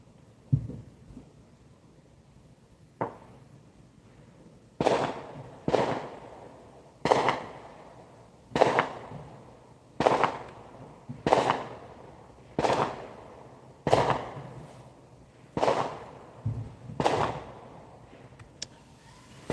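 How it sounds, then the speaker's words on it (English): Fireworks going off outside: a string of about a dozen sharp, loud bangs at roughly one-to-two-second intervals, each with a short echoing tail, against quiet background. "I don't even like fireworks."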